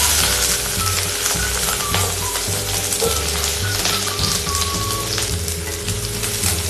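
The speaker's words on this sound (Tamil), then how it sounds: "இப்போ இதையும் ஒரு தடவை நல்லா வதக்கி விட்டுக்கிறேங்க." Onion and capsicum cubes sauté in a pan for dry babycorn manchurian, a dense steady sizzle that fills the whole stretch, close and loud, with a mechanical whirring hum underneath and no talking.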